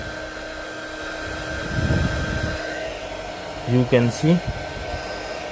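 A 300W mini heat gun blows hot air onto heat shrink tubing. It makes a steady, moderate whoosh with a fan hum, and brief bursts of speech and handling sounds come near the end.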